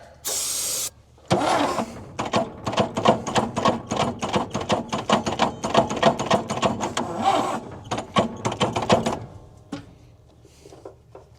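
An old 1963 GMC V6 truck engine that has sat unused for over thirty years cranks over on the starter, a loud, rapid, rhythmic chugging churn lasting several seconds without catching, with a possible bad rod, heard up close.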